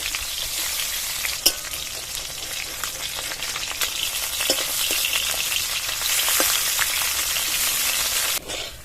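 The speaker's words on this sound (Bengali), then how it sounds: "গরম তেলে মাছগুলো ছেড়ে দিয়ে ভেজে নেব।" Tilapia pieces rubbed with salt and turmeric fry in hot mustard oil in a wok, giving a loud, continuous sizzle with scattered pops and crackles and no talk.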